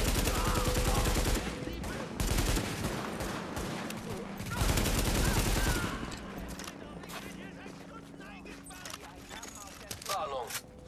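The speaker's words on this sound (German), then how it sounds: "Ihr müsst aufpassen, wo wir hinschießen und ballern" Gunfire in the video game The Division, dense bursts of rapid automatic shots for several seconds, then sparser scattered shots, with voices talking over the action.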